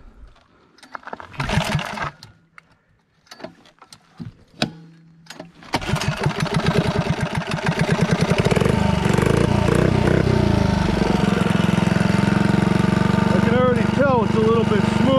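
A mini bike engine fitted with an SBD muffler starts after a few sputtering attempts and then runs steadily, a loud close buzzing idle and rev that carries on alone to the end.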